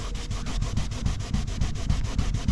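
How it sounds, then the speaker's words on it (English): A cleaning pad rubs back and forth on a car surface with cleaning material to scrub off residue, giving a steady, rhythmic scrubbing stroke repeated about six times a second, close and fairly loud, with no talking. "put a little bit of cleaning material on there, and it's just going to wipe straight off for us"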